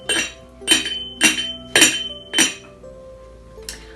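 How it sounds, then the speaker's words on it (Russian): A glass lid clinks against a teapot five times in a steady rhythm, each ringing tone decaying, followed by one fainter clink. "сказал чайник и зазвенел своей стеклянной крышечкой"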